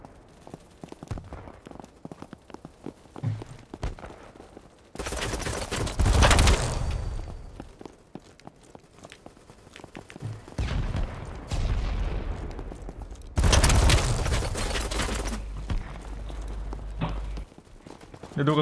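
Kriss Vector submachine gun in the shooter Battlebit, firing long, loud, rapid bursts in two main stretches with quieter clicks and steps between them, and some talking.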